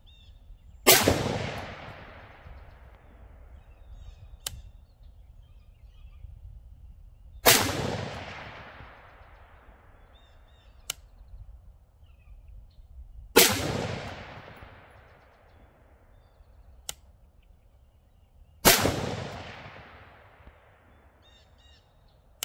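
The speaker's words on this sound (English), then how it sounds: "They shoot so smoothly, there's hardly no recoil of any kind, and it's really easy to stay on target, even with iron sights." Four single shots from an Aero Precision 20-inch Retro A2 rifle fired with iron sights, each a loud sharp crack with a decaying echo, spaced about six seconds apart, with faint clicks between them and no talking.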